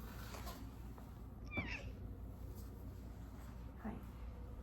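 A house cat sitting on a table gives a single short meow, faint against a steady indoor hum, with a softer second call near the end.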